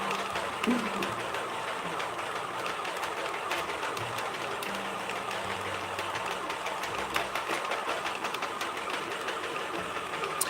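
A circular knitting machine runs steadily while knitting a cloud beanie, giving a continuous mechanical whirr and rattle with small clicks, close and even throughout with no pauses.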